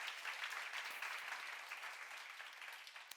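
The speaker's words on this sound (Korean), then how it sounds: "박수 한번 쳐요." A congregation at a Korean church gathering applauds, a fairly faint, even patter of many hands clapping together that tapers slightly over three seconds, with no talking over it.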